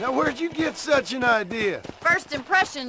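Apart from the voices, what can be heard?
No everyday noise stands out behind the speech.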